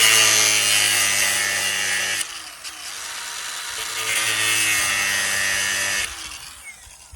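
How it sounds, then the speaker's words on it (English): An angle grinder fitted with a metal-cutting blade cuts through wood while old treehouse steps are replaced. It whines loudly in two long bursts with a short drop between them, then winds down near the end. "just using a grinder with a blade, this is a metal cutting blade"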